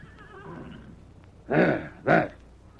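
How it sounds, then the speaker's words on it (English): Two loud, bursting horse whinnies, one right after the other, follow a quieter stretch with faint background sounds. "That's a horse somewheres in the distance."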